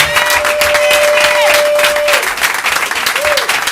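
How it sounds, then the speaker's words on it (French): A church congregation claps loudly and cheers in praise of God during a French-language Bible teaching service, with a sustained vocal whoop or shout rising over the dense clapping. "Une acclamation pour notre Dieu."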